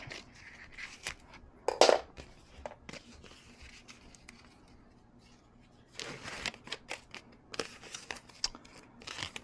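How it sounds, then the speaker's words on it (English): Camouflage wrap film being cut with scissors for an Arctic Cat 400 ATV seat cover: close, intermittent snipping and crinkling bursts with quiet stretches between, the busiest bursts coming early and again near the end. "I'm going to just cut that right about there."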